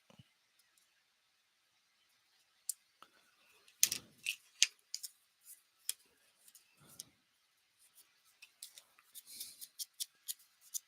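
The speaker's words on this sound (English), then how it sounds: "Just trying to cut this piece out." Scissors snip through a paper piece for a handmade card, giving a quiet series of small, irregular cuts and clicks close by, with long silent gaps and no talking.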